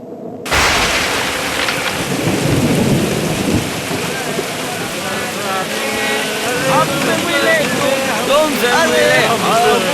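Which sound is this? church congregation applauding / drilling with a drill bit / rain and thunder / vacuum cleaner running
rain and thunder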